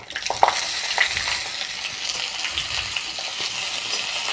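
Chopped onions hit hot mustard oil with whole cumin seeds and fry in a steady, close sizzle, with occasional stirring clinks against the pan throughout.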